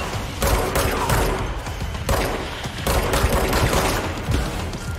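Sustained automatic gunfire from the video game Control, dense rapid bursts loud and close with brief pauses between volleys, no talking.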